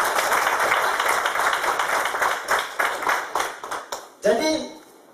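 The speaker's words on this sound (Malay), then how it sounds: "Jadi tepukan kepada Petina" An audience claps together in an indoor health talk, a dense run of hand claps fading toward the end, with a voice breaking in over the last moments.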